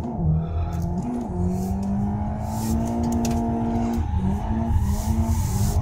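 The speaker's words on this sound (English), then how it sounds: "Ooh, nice long drift there." Driving-game car sliding through a long drift, engine droning steadily with a high, sustained tire squeal over it, close and loud without talk.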